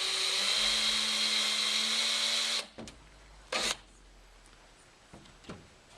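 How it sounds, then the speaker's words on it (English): A power drill marks hole positions on a Land Rover Defender Puma bonnet conversion panel, whining loudly and steadily for about two and a half seconds before stopping, then a few faint knocks follow. "we're going to drill the two middle ones"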